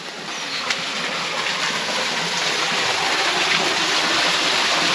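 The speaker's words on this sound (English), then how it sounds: "you can really hear the water coming down" Water rushes down a small stream that feeds a pond, a steady, loud, close hiss of flowing water that swells slightly and continues without pause.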